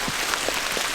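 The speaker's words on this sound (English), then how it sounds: "especially with raining like this" Rain falls steadily outdoors at night in wooded country, a dense, even hiss with a few soft drop taps and no voices.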